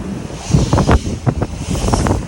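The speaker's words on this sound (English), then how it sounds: "We got the wind like 60 or higher right now." Strong wind of about 60 knots or more roars across the microphone on a sailboat at sea, with buffeting gusts and the wash of waves, loud and continuous.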